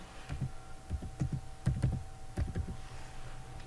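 Computer keyboard keys being typed in short irregular bursts of crisp clicks and taps, close and fairly quiet, with no talking.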